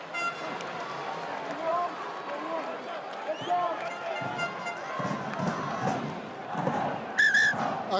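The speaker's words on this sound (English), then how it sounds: "The crowd celebrate." A rugby stadium crowd at a French Top 14 match roaring and cheering as a penalty is awarded to the home side, a broad sustained din with whistle-like tones, under a commentator talking.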